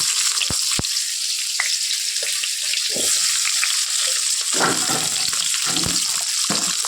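Pointed gourd, potato and other vegetables frying in oil give a steady hiss and sizzle, broken by occasional clinks and spatters from the pan.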